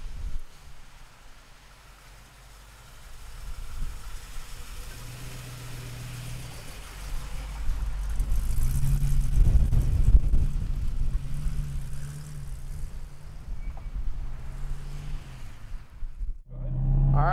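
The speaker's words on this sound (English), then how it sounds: "let's go for a ride in a Mustang" A 1966 Ford Mustang coupe with a 3-speed and overdrive rumbles at idle nearby. Its engine rises into a deeper, louder rev midway, then settles back to a steady low throb.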